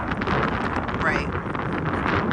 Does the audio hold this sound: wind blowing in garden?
yes